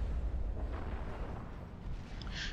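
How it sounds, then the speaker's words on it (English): Bombs strike and destroy a factory in the real-time strategy game Supreme Commander 2, a continuous low, rumbling roar of explosions with faint crackling bursts on top. "Bombing on a factory and it's quickly destroyed."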